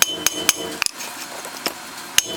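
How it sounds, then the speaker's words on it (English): A 2-pound shop sledge hammer strikes the rear brake disc on a 2008 Ford Edge, producing several sharp, loud metallic bangs at uneven intervals, with a quick double hit partway through. "Get you a shop hammer. This is a 2-pound shop sledge. Give that a couple whacks."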